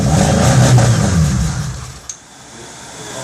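A 1999 Dodge Stratus 2.4 L engine, running on starting fluid with a fuel-delivery fault, revs loudly and roughly for about two seconds before settling and fading to a low idle, with a brief click near the end.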